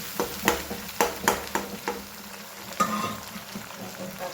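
Garlic and chili paste tempering in hot oil as fresh moong beans are added and stirred, with a steady sizzle broken by a series of sharp spoon scrapes and taps against the pan, close and fairly quiet, no talking.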